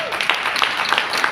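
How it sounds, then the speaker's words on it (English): A round of applause from a large audience at an inCruises event, dense, steady clapping heard close throughout a short burst. "You all deserve a round of applause for that."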